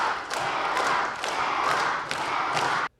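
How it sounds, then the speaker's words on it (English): Students in a school gym cheer and clap loudly at an assembly, a dense roaring crowd with bursts of shouting and rhythmic claps that build and fall before cutting off abruptly. "Cheers echoed through the gym as students clapped and cheered"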